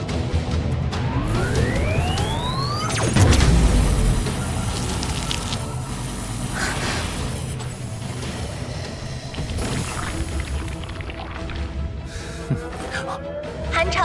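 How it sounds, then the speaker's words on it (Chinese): A cold-wave alarm siren in an animated sci-fi series, loud and rising in sweeping wails over a dense, rumbling background of action sounds and effects. "寒潮警报！ 寒潮警报！"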